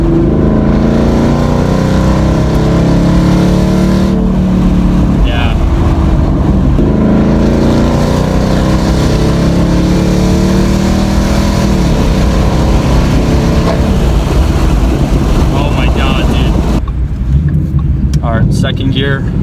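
A 2014 Ford Mustang GT Premium with a Coyote V8 and about 85,000 miles accelerating hard: a loud, continuous engine roar heard from inside the car, climbing in pitch and breaking at a gear change.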